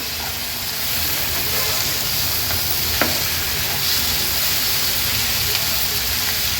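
Cleaned shivlya clams with their own water are stirred in a pan in the Agri Koli style, giving a steady wet sizzle and hiss with one brief scrape of the spoon partway through.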